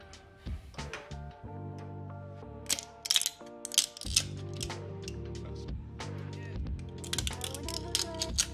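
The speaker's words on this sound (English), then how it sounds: "Secure the spring, rotate the key to wind it, and once it's fully wound, turn the key in the opposite direction" Clicking and ratcheting as a key winds a spring on a 3D-printed spring winder for a digital tape measure build, with irregular taps and clicks over steady background music.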